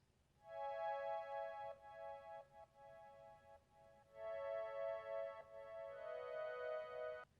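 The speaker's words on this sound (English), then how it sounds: "So underneath the chop samples, I have this chord progression going" Soft synth chord progression from a sample-based hip-hop beat, sustained chords changing every couple of seconds with a faint ticking pulse, quiet and alone.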